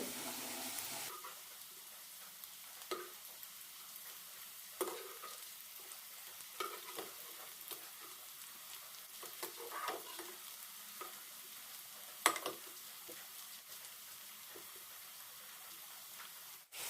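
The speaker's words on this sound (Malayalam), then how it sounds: "ലോ ഫ്ലെയിമിലിട്ട് വറുത്തെടുക്കാം കഷ്ണങ്ങൾ നന്നായി വെന്ത് കിട്ടണം" Snake gourd pieces fry quietly in oil on a low flame, a faint continuous sizzle broken by occasional clicks and scrapes as the pieces are turned.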